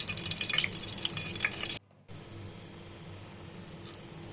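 Two spoons of butter heat in oil in a pan, giving a bright, crackling sizzle that briefly cuts out, then returns as a softer, steady hiss.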